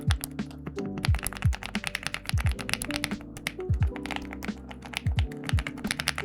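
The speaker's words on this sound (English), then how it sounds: "let me show you guys how my keyboard sounds" Keys clack in quick irregular bursts on a new, heavy computer keyboard, close and crisp, each stroke a sharp tap with short pauses between runs, and a low background hum underneath.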